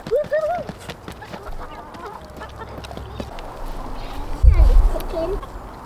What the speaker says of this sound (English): Look at that ginormous chicken over there.